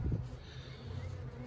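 Honey bees buzz softly around an open hive, a faint, close hum with a brief louder burst at the start.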